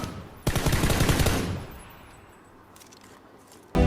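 A loud, rapid burst of video game automatic gunfire rattles for about a second and dies away, then another blast starts abruptly at the end.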